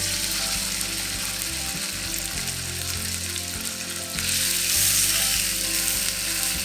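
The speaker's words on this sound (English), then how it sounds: "When the pan is hot, put in your pork chops." Pork chops frying in hot oil in a pan, a continuous close sizzle and crackle that swells louder partway through, with no talking.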